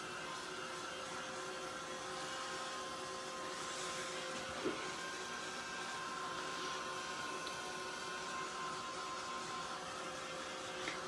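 A heat tool drying paint on a scrapbook page blows with a steady, even whine and airy hiss, running continuously at close range with no talking.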